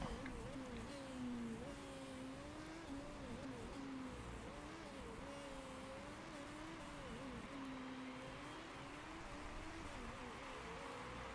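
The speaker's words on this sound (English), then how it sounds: "Get these smoky ass cars off the track." Several race cars circling a track in Motorsport Manager, engine whine wavering up and down in pitch as they pass, a steady, moderately faint drone with no talk.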